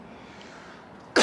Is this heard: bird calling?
no